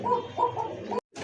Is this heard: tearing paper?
no